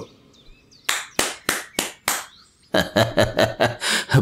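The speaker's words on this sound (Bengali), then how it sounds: "প্রণব পাকরাশি হাততালি দিয়ে সোফা ছেড়ে উঠে দাঁড়ালো" Hand clapping in a Bengali ghost audio story, first five slow separate claps, a short pause, then a quicker run of about eight sharp claps, close and crisp with no talking.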